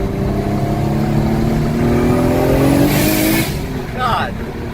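A turbocharged car running on E85 revs hard, its engine note climbing steadily and loud before cutting off, followed by a brief whoosh; people talk over the engine noise.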